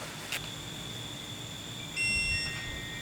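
Beeping from a torque wrench on a Cub Cadet 1450 oil pan bolt with a Kohler engine and aluminum pan: a brief high tone near the start, then a steadier beep about two seconds in, faint against quiet garage background.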